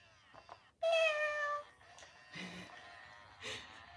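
A Little Live Cuddles electronic toy kitten lets out one bright, clear meow for attention, followed by softer breathy noises and faint rustling nearby.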